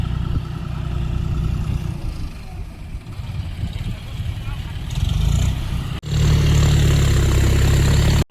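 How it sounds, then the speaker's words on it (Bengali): A car engine runs outdoors near a rural market, with a steady low rumble that swells louder toward the end. A voice talks over it. "গাড়ি চলছে"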